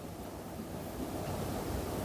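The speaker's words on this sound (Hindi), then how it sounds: "थोड़ा सा डाल लें पानी।" Water being poured into a pan of cooking chicken pasta sauce makes a soft, steady rushing hiss that holds at an even level for about two seconds.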